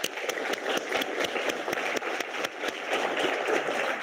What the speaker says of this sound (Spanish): Un aplauso para todos ustedes por confiar en esta asignatura.